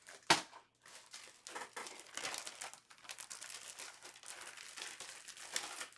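Crinkly rustling of craft paper being shuffled and handled up close, a sharp crackle at the start followed by continuous dry paper rustles and crumples with no talking.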